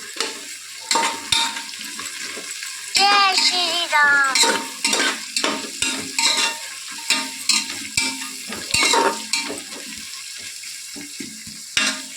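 Curry leaf sprigs fry in a pan of oil for ivy gourd pulao, a steady close sizzle with repeated stirring scrapes and clinks throughout, no talk.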